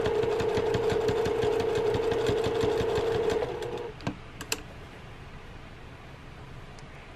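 A sewing machine stitches along the inside edge of a frame on a cathedral windows cushion cover, a steady whirring hum for over three seconds before it stops, leaving faint handling clicks.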